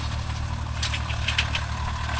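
Swaraj 744 FE tractor, 45 HP, pulling a nine-tine spring cultivator in dryland, its diesel engine thrumming in a steady low-pitched drone, close and continuous.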